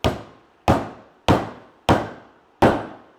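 Five evenly spaced, loud metallic blows of a hammer driving a bushing into a BMW E39 rear subframe, each strike ringing briefly before the next, with no speech.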